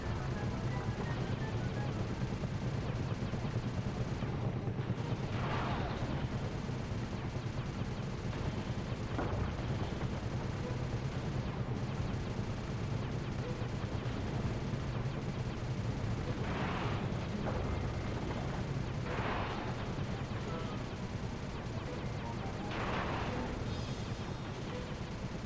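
Video game gunfire from a gunship battle around a temple: a continuous dense rumble of muffled shots and booming blasts, with a few sharper bursts standing out over the roar, loud and sustained with no clear pauses.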